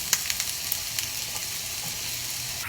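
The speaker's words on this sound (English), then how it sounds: "Onions going in. So is my squash." Onions and squash sizzle steadily in hot oil in a pan, a continuous close crackling hiss with small pops and faint clinks, no talking.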